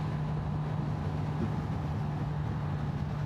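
A 2026 Kawasaki Z900RS motorcycle cruises in fourth gear at around 4,500 rpm and 50 mph, with a steady engine drone and a constant low hum under wind noise.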